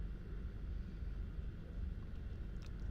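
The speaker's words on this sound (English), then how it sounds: "Now all we hear is the humming of engines." A steady, low engine hum fills a space station in the sci-fi game Star Trek Online, a continuous rumbling drone with no voices, and a few faint high blips come near the end.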